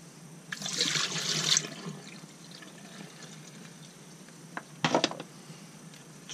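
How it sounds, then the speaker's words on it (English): Dirty water from a paint sprayer's cleaning is poured away in a soft splashing rush lasting about a second, followed later by a shorter splash, faint and close with no talking. "just going to pour that dirty water away."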